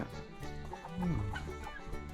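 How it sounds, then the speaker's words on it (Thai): A jungle fowl clucking in a Lao village setting, a few short throaty clucks with one louder, drawn-out call in the middle, heard fairly close over a quiet outdoor background. "อันนี้ไก่ป่า"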